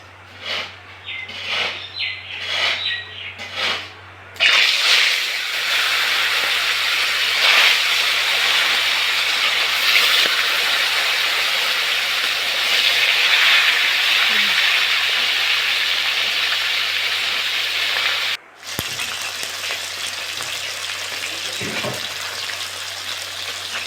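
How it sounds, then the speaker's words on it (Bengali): Rupchand fish goes into hot mustard oil in a kadai: a few light clatters and taps come first, then a loud, continuous hissing sizzle that holds steady, broken once by a brief dip. "কড়াতে সর্ষে তেল দিয়ে দিয়েছি তেল গরম হয়ে গেছে এবার মাছ ভেজে নেবো"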